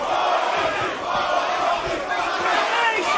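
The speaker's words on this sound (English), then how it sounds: "The crowd here in London really getting behind their boy" A London arena crowd at a Cage Warriors mixed martial arts event roars and chants steadily, loud and sustained throughout, with commentary voices faintly beneath.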